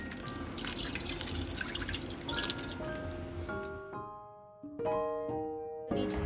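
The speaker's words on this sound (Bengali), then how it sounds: "এবার আমি একটু দুধের প্যাকেট কেটে দুধ দিয়ে দেবো।" Milk poured from a cut packet into a chicken biryani pot, a steady liquid splash that thins into trickles and drips near the end, close by with no speech.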